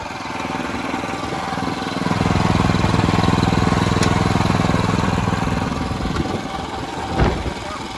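A WEIMA WM1100D single-axle walking tractor engine running steadily, a loud close chugging drone that rises in pitch and intensity as the fast gears are tried, with a sharp knock near the end.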